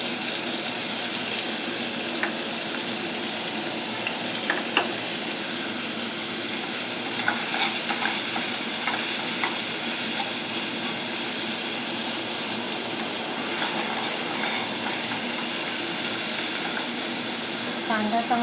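A medium onion sautés in a pan for onion kachori, with a continuous bright sizzle and intermittent stirring scrapes and clicks, steady and close throughout.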